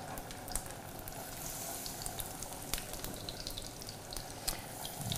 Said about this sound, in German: Kurzes Zischen und Brutzeln.